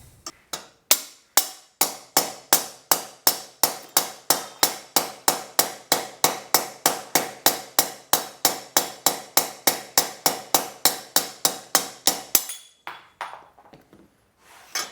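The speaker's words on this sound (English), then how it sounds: "make sure it's positioned on the bearing race, and then you can hammer it out." Hammering out a motorcycle steering head bearing race: about forty sharp metallic hammer strikes in a fast, even rhythm, ringing and close, followed by a brief pause and a few softer knocks.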